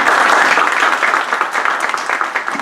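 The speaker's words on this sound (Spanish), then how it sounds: "Recibámoslo con un fuerte aplauso." A short burst of welcoming applause from a conference audience at a book presentation, loud and dense at first, then easing slightly toward the end.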